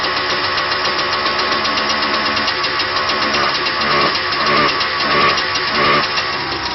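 A Polaris SLX 780 snowmobile engine with gummed-up carburetors idles steadily and loudly throughout, its rough, uneven running surging slightly now and then, not revving properly, with no voices.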